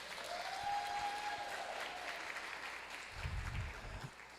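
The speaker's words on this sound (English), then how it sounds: "let's give Zach and Cameron a big round of applause" An audience at a lunch-and-learn gathering gives a sustained round of applause for two presenters, steady and fairly distant, with a few low thumps toward the end.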